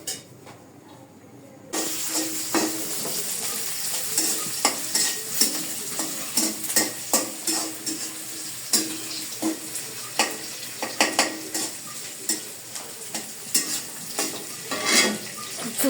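Metal utensil stirring and scraping through frying khichuri in a pot, a steady sizzle under repeated clinks and scrapes, close and fairly loud after a brief quiet opening.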